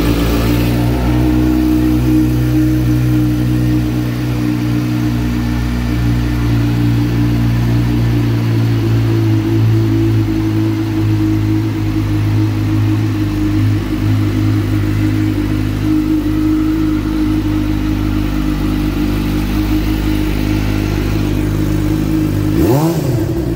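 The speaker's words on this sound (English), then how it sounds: "Let's go ahead and fire it up and listen how it sounds." A 2019 Suzuki GSX-R600 sport bike idles loudly and steadily up close after starting, a continuous engine drone held throughout with a brief throttle blip near the end.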